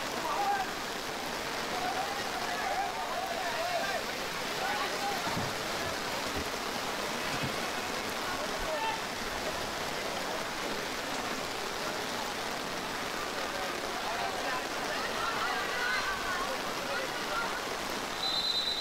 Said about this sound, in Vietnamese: Cơn mưa rất to, rất nặng hạt đang